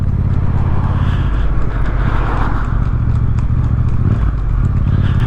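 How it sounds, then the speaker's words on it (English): Horses clip-clop on a road just ahead of a Yamaha MT-07 motorcycle, a steady hoof rhythm riding over a constant, loud engine and wind rumble with no talking. "I don't want to freak their horses out, but now they're on the road in front of me."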